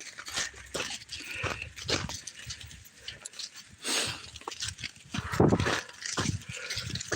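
Dog sounds, panting and scuffling, carry on steadily and fairly near outdoors on a walk, with louder bursts about midway and no clear speech.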